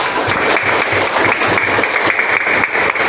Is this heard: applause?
yes